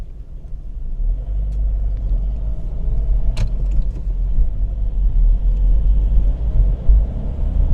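A car rolling downhill in gear without throttle gives a steady, loud low engine and road rumble that builds slightly, with a brief rattle partway through and no talking.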